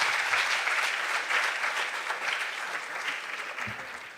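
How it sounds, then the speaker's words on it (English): A quiz audience at a junior science and maths national championship quarter-final gives a long, steady round of applause, a dense, even wash of clapping that holds throughout and eases slightly at the end. "I think I need another resounding round of applause"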